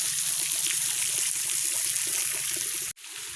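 Water gushing steadily into a newly built tilapia fish pond before the fish are stocked, a continuous close rushing flow that cuts out briefly near the end and then resumes.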